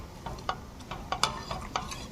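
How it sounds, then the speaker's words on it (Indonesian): A spoon stirs tapioca flour into a pot of bubur gunting, scraping in a quick, regular rhythm of soft clinks and swishes up close. "Ini kita harus aduk teman-teman ya. Aduk dan kita tuang sedikit demi sedikit."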